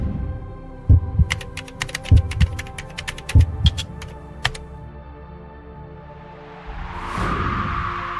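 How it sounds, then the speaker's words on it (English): A deep, booming heartbeat thuds in a slow, steady rhythm, several heavy pulses with a crackling, clicking texture over them, fading into a rising whoosh as an audio drama effect. "the giant heartbeat echoed through the void again. Thump!"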